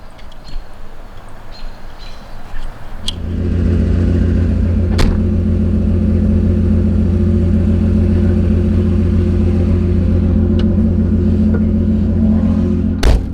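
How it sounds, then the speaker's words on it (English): A flood-damaged Porsche 911 starts rolling after a quiet interior idle, its engine settling into a loud, steady low drone with a few sharp clicks and knocks heard from inside the cabin. "So let's take this flooded Porsche for a drive."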